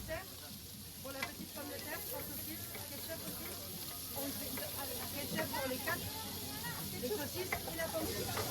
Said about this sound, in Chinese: 在寒冷的冬天，这种滋滋作响的炒菜声真的无法让人拒绝